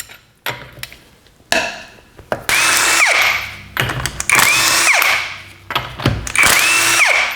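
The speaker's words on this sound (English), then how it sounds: "I'm going to set them off with an impact." An impact wrench hammers loose the lug nuts on the rear wheel of a Chrysler 200, three loud rattling bursts of about a second each following some shorter clanks and taps, close by.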